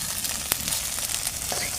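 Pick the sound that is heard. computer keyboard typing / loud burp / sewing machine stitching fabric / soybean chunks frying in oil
soybean chunks frying in oil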